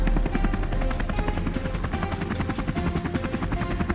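A compact helicopter thumps close by as it flies over mist-covered fields, its rotor beating in a fast, steady pulse over a heavy engine drone.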